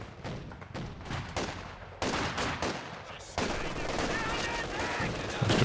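Rapid machine-gun bursts and scattered gunshots crackle through a Company of Heroes 2 battle with a half-track nearby, firing in dense overlapping volleys that swell louder after a couple of seconds, with a voice talking underneath.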